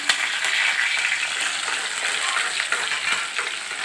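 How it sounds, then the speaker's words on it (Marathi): Green chillies fry in ghee with a dense, even crackling sizzle that holds steady throughout, close and fairly loud, with faint stirring taps and no voices. "नंतर साजूक तूप घातलं 5 ते 6 चमचे आणि त्याच्यात हिरवी मिरची घातली"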